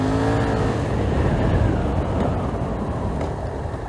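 A motorcycle engine revs hard and climbs steadily close by through first, second and third gear, roaring continuously for a few seconds as it accelerates.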